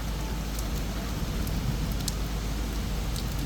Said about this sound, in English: The rain intensity picked up in past few hours.